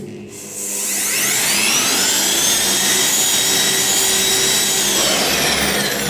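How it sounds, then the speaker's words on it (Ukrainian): A GTM wall sander whirs up after a short start and runs steadily, a loud droning whine with grinding friction against a wall. "як шліфує ця шліфмашина"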